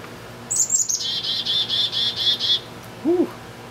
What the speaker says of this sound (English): Birds are singing up a storm today.